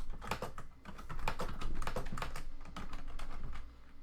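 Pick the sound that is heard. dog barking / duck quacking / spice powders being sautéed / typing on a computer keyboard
typing on a computer keyboard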